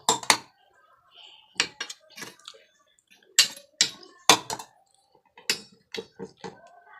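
Ghee-greased bowls being set down on an induction cooker make sharp separate clinks and knocks in small clusters against near silence, close and fairly loud.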